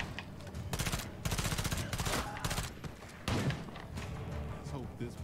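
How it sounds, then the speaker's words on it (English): Bursts of raider gunfire in State of Decay 2, rapid overlapping shots and heavy thuds coming in volleys at close range, with a voice talking over parts of it. "Can I even shoot through chain link?"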